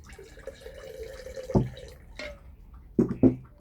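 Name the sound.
water poured into sourdough starter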